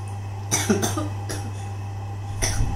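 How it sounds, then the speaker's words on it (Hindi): Three short, sharp coughs from one person close by, spaced out over a couple of seconds, over a steady low electrical hum. "एसी वाली खांसी एसी वाली खांसी या कोविड वाली खांसी"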